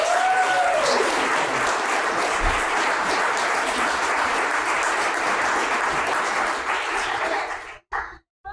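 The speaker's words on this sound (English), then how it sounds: "Can you give them just a huge round of applause?" A large audience at a 25-year anniversary hope event gives the staff a sustained round of applause, dense and steady for about eight seconds before cutting off abruptly, with a faint whoop near the start.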